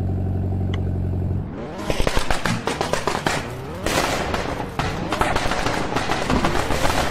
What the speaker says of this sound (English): I hear a goddamn firecracker.